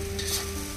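Curry leaves and mint hit hot oil in a kadai over a wood fire while being stirred, a brief close sizzle with a soft scraping swirl.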